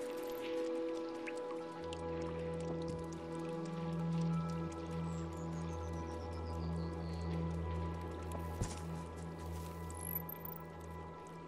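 Water splashing and dripping in the video game Stray, with light drops and small splashes over a steady ambient game soundscape, with a sharper splash near the end.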